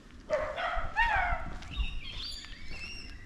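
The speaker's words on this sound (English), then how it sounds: "We got dogs barking in the background." Dogs bark and yip at a distance amid outdoor ambience in a residential neighborhood of Mosman Park, with some high bird chirps mixed in.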